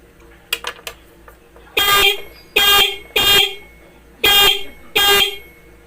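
A stock car horn under repair is tested, giving a couple of faint stuttering blips and then five loud, close honks of about a third of a second each, spaced irregularly with short gaps.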